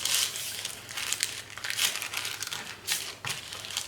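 Paper folded into a triangle with close crinkling and creasing, in irregular rustling bursts with brief pauses, no talking.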